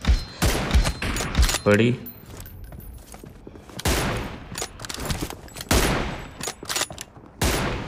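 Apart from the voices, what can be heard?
M249 machine gun fire from the video game PUBG Mobile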